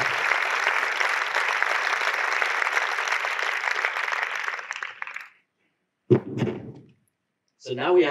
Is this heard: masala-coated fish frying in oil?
no